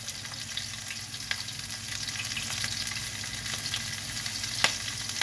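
Lamb chops frying in a pan with their fat rendered out, a steady close sizzle and crackle with occasional sharper pops, continuous throughout with no talking.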